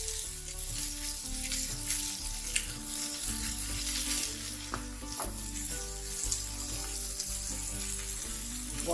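Seasoned burger patties sear in a hot pan with a loud, steady sizzle that runs the whole time, broken by a few soft clinks of a utensil, and no talking.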